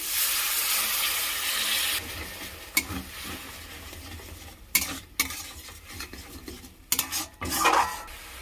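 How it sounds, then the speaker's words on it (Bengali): Spices frying in oil in a pan for egg ghugni, with water added: a loud steady sizzle at first, then quieter simmering broken by several sharp clinks and scrapes of a spoon stirring against the pan. "এবার আমি সামান্য একটু মশলার জল দিয়ে দিচ্ছি"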